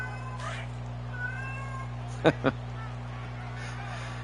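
A female cat on her fourth day in heat meows several times nearby, drawn-out cries followed by two short sharp calls, over a steady hum from a televised football game.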